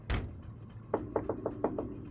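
Knocking on a wooden cabin door in a mystery video game: a loud opening thump, then a run of six sharp raps spaced fairly evenly, close and clear with no talk.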